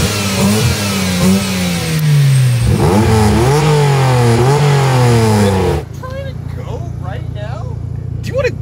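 Acura NSX and Mazda FD RX-7 engines rev hard before a no-prep drag race, a loud close-up roar rising and falling in repeated blips, then a lower steady idle as the revving drops off.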